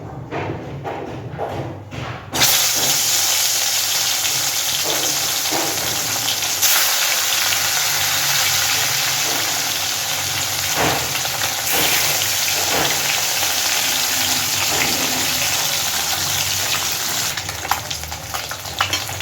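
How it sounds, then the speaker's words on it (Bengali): Salted, turmeric-coated bhetki fish fries in hot oil with a loud, steady sizzle that starts abruptly and holds throughout, broken by a few faint utensil knocks and clatters. "এবার লবণ হলুদ মাখিয়ে নেওয়া মাছটা ভেজে নেব"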